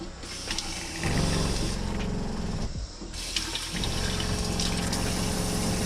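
Water pours from a faucet in a camper van, fed by a Shurflo water pump, with a steady rushing flow and the pump's mechanical hum underneath, near and continuous with a brief dip midway.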